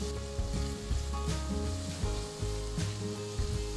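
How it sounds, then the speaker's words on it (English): Onions and curry leaves sauté in a hot pan with a steady, close sizzle, broken by regular scraping stirs throughout. "Saute the onions for just about a minute."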